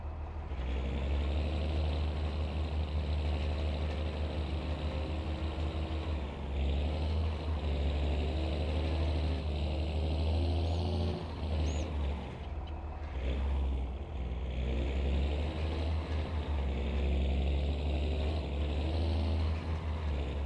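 A tractor engine in Farming Simulator 22 hauls a load heavy enough to make it slide, giving a steady, loud, low drone with layered harmonics that runs unbroken for the whole stretch, with no talking over it.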